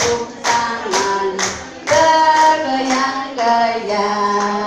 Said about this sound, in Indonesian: Bertepuk tangan